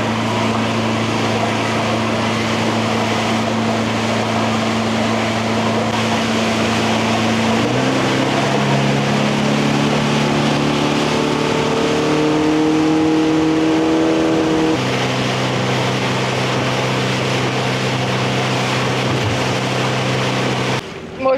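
Motorboat on open water of Lake Garda, its engine droning steadily, then rising in pitch as the throttle opens and the boat speeds up, loud and close with water rushing underneath.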